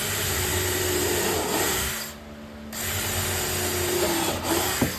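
A power drill runs steadily, boring pilot holes into a treated 2x4 spacer for an outdoor wooden porch chair, with a brief pause midway before the motor whines again; close and fairly loud, no talking.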